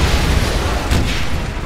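An explosion in the video game Wolfenstein lets out a loud, close, rumbling boom with a noisy burst of debris-like crackle, filling the short moment on its own.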